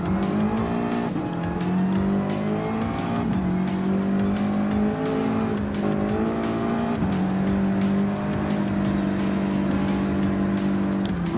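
Ford GT LM race car in Gran Turismo Sport, a steady loud engine roar rising and falling through gear shifts, with tire squeal and skidding through corners, continuous and close without talk.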